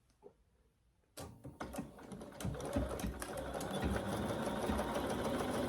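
A sewing machine starts after a brief quiet pause and then runs fast and steady, its rapid needle clatter stitching a ruffle onto a pillow, close and alone.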